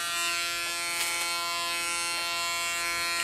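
An electric hair clipper fitted with a comb attachment drones with a steady, close mechanical buzz as it cuts hair during an undercut, the tone holding constant with slight shifts as it moves.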